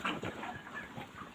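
Broiler chickens on a poultry farm give faint, soft clucks and murmurs in a quiet shed, a low scattered chatter of many birds.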